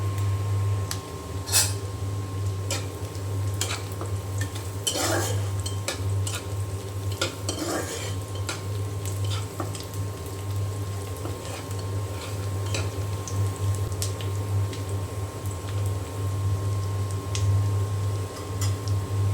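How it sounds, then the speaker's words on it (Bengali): Onions frying in ghee in a pot, stirred with a utensil that scrapes and taps against the metal now and then over a low steady sizzle and a constant background hum. "এখন একটু ভেজে নিয়ে তারপরে এখানে যে পোলাও চাল ধুয়ে রেখেছি দিয়ে দেবো"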